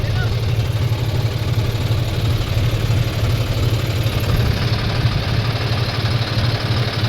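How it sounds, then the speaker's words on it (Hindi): A tractor engine runs a thresher during a maize harvest, a steady loud rumbling drone with constant mechanical clatter and no pauses. "मैं तो आगे बैठ गया ट्रैक्टर पे, अब उसको करेंगे चालू"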